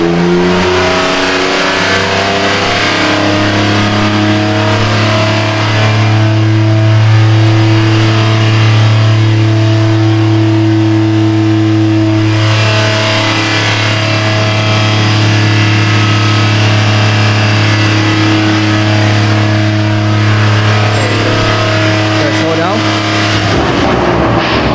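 A BMW M4 with the S58 engine, an all-wheel-drive xDrive car, runs on a dyno in rear-wheel drive only. The engine drones loud and steady with a strong low harmonic hum that builds gradually, while people talk over it.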